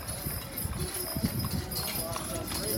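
Horse-drawn buggy hooves clip-clopping on a city street, a quick uneven rhythm of hoof strikes heard close by over traffic and street noise, with someone speaking.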